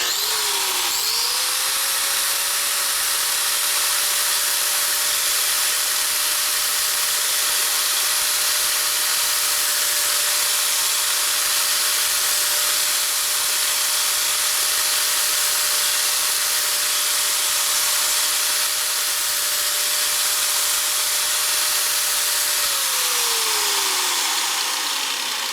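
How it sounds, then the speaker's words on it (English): A grinder runs steadily at a constant high pitch, smoothing sharp edges on a 1957 Harley panhead cylinder head for a drag-racing build, spinning down near the end; close and continuous with no talk. "Still got sharp edges on there. Grind out a little bit."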